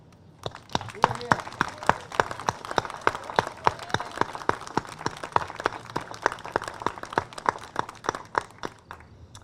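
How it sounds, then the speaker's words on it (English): Sustained audience applause at an outdoor town celebration for the incorporation of Wareham, honoring the town militia; many hands clap steadily and evenly for the full length, fairly close and loud, with no talk over it. "And I think they need a round of applause for that."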